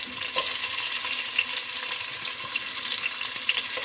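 Onions frying in ghee for a mushroom biryani, a steady close sizzle with soft crackling throughout and no talking.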